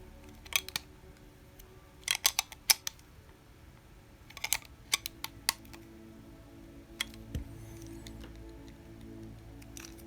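A small part is tightened on a Tamiya Karmann Ghia model on an M-06 chassis, with sparse clicks and ticks of plastic and a small tool coming in quick clusters against a quiet background.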